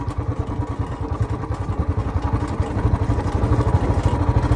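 A Royal Enfield Bullet 350 motorcycle engine, overdue for servicing, thumps in a fast, steady pulsing rhythm while riding, loud and close throughout with no talking.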